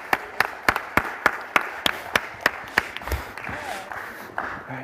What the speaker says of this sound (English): a big round of applause for our audience